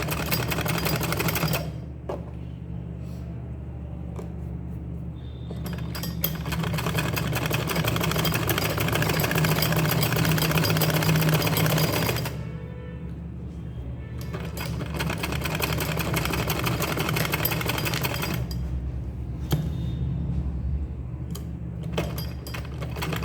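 A sewing machine runs in long continuous bursts, stitching a flared sleeve, its steady motor hum and needle chatter stopping briefly around two, twelve and nineteen seconds, with no talking over it.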